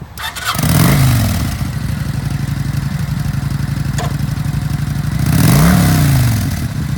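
A used 2007 Kawasaki Vulcan 900 Custom V-Twin cruiser motorcycle runs close by, loud and steady with a pulsing idle, revving up near the start and again toward the end before settling back.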